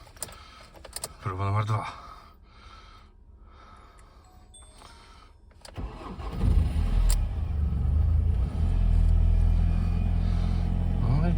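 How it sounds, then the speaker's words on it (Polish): A Ford Galaxy starts cold at minus 16°C. After a few quiet clicks and rustles, the engine cranks and catches at close range, then settles into a loud, steady idle for the rest of the stretch. "Zobaczymy, czy ten fort odpali."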